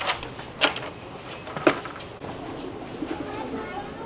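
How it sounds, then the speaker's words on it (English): Pigeons coo outdoors at the seaside in Seaside, Oregon, with soft calls and a few sharper bursts over steady open-air background noise. "See all these pigeons?"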